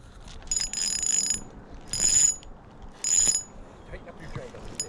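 Fishing reel drag clicking while fighting a fish on a boat on the Mississippi River, heard as three short bursts of rapid ratcheting clicks a second or so apart, moderately near over faint water and boat background.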